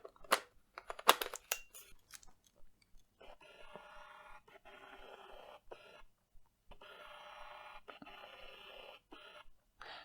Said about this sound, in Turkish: Gördüğünüz gibi bu lens de çok ses çıkartıyor.